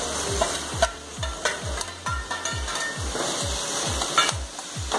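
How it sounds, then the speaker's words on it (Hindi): Mogri radish pods sizzle in a pan of masala with tomato, coriander and garam masala as a spoon stirs them in a steady, rhythmic scraping beat, about a dozen strokes over a low frying hiss. "बस मसाला पकने तक ही चलाना है इसको।"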